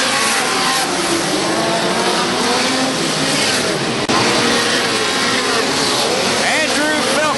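Winged micro sprint race cars howl around Belle Clair Speedway in a dense, loud, unbroken engine roar, with an announcer talking over the racing throughout.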